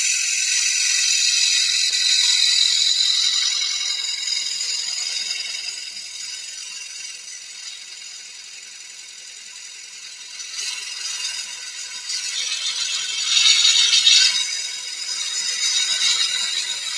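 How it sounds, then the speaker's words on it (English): A small bowl gouge with a swept-back grind takes a very fine finishing cut on a spalted beech bowl turning on a lathe, a steady airy hiss that swells and fades across the pass with no voices. "final finishing cut, and I'm using the smaller bowl gouge here with the swept back grind"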